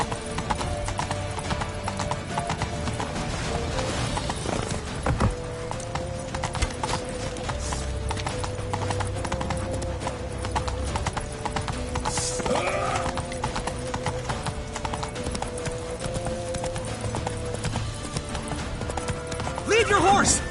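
Horse hooves clatter in a steady galloping clip-clop throughout a fantasy video game scene, with whinnies, shouting voices and busy background noise layered over the continuous rhythm.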